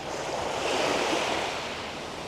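Sea waves wash onto a beach in Tenerife in December, a steady close surf rush that swells slightly midway, mixed with a little wind noise and no voices.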